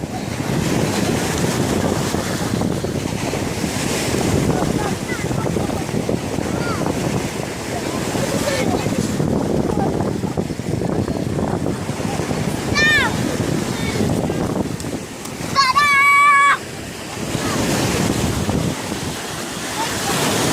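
Sea waves washing onto a seashore with strong wind buffeting the microphone, a constant loud roar and rumble of surf, while people talk intermittently and a high voice calls out briefly near the end.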